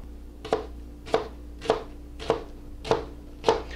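Knife slicing vegetables on a cutting board, six evenly spaced crisp chops at a steady rhythm, close and clear with no talk.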